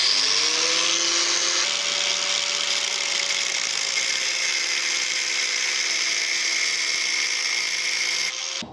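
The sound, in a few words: power tool cutting down a motorcycle bolt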